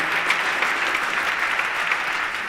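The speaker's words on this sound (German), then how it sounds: "das ist der Applaus für dich" An audience at a German panel event on the UN disability rights convention breaks into steady, even applause, a dense wash of clapping that holds at the same level throughout.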